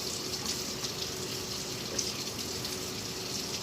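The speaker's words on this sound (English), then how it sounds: "while we're here at the sink, I'm going to go ahead and rinse our tomato" A beefsteak tomato is rinsed under a running kitchen tap at the sink, with water flowing steadily and evenly the whole time and no one talking.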